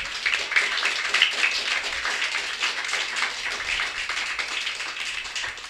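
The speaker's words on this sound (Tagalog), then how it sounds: "Pumalakpak ang mga taong tapat sa Diyos." A congregation clapping hands during a sermon, a busy, even wash of many hands clapping together for several seconds with no talk over it.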